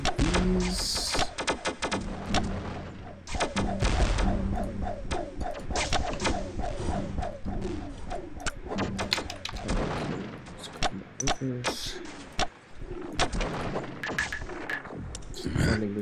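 Cannon fire in the classic real-time strategy game Netstorm crackles through a rapid barrage of sharp booms and thuds, dense and repeated, with a voice talking over parts of the battle.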